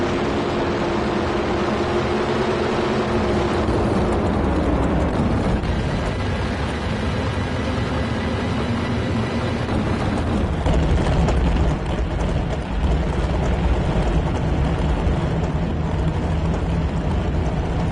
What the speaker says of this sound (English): These engines get decibels up to 150 dB, which is as loud as a truck.